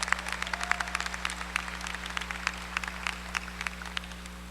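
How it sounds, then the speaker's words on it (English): At a spring university commencement ceremony, the crowd applauds with scattered, distinct claps of moderate loudness over a steady low electrical hum. "Let's give them a round of applause as well."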